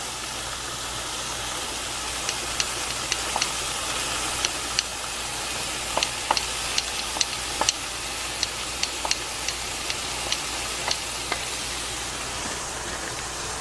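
Kale cooking in a heated pan, giving a steady low sizzle with scattered small pops and ticks throughout, steady and moderately quiet.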